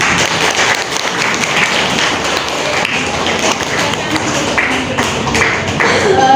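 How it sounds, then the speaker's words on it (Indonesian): A classroom group breaks into applause for the first presenting group, a dense patter of clapping that stays loud and even throughout, with voices mixed in. "kasih aplaus dulu untuk kelompok 1"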